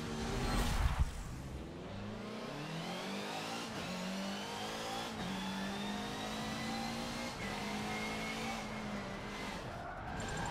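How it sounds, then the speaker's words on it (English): Race car drifting in Forza 7, a Ford Focus RS RX or VW GRC Beetle rallycross machine, engine droning and pitch sweeping up and down as the tyres squeal continuously through the slide, loud and close without a break. "that was a bad drift"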